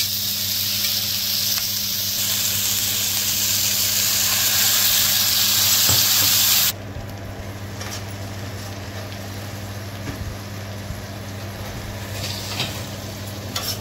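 Chopped tomatoes for a Goan rohu fish curry sizzle loudly in a hot pan, a bright close hiss that suddenly drops to a softer, duller simmer partway through, with faint stirring sounds.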